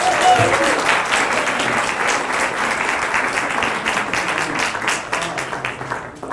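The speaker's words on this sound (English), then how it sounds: "Can we give Phil a round of applause?" Audience at a live-streamed TCC multimedia event gives Phil a round of applause, dense sustained clapping from a room of people that thins and fades near the end.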